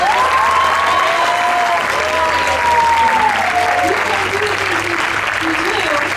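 Sustained crowd applause at a school band awards event for the band boosters, steady and loud throughout, with a faint voice and tonal sounds layered over it.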